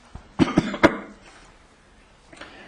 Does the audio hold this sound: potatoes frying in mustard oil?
no